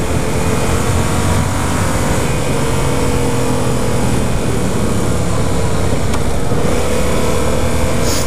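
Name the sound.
2015 Yamaha FZ-07 motorcycle riding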